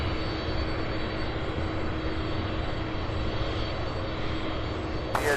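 A jet airplane taxis at Louisville airport, its engines giving a continuous, even rumbling whine with no breaks, moderately loud from a distance.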